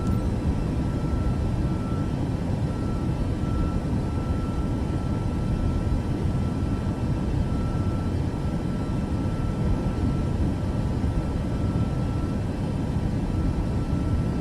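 An airliner's engines roar steadily through the takeoff roll in Microsoft Flight Simulator, a loud, constant low rumble with a faint whine held above it and no break throughout.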